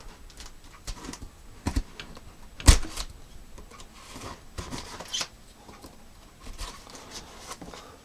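Packaging of a QFX PBX-38 Elite Series portable Bluetooth speaker being opened: close crinkles, rustles and scattered sharp taps, with one louder snap near the middle, irregular and without speech.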